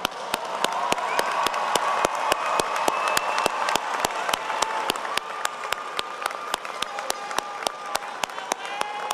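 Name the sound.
audience applause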